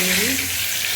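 Bay leaves hit hot oil in a kadai over a high flame, with chilies already added, giving a sharp, steady sizzle and hiss up close, with a brief voice murmuring underneath.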